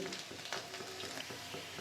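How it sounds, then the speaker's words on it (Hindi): Steady sizzling of garlic frying in hot oil, a continuous crackling hiss with small pops, close and moderately loud, no voices. "ये मैंने लहसुन लिया है। इसे अच्छा सा हम सुनहरा होने तक भून लेंगे।"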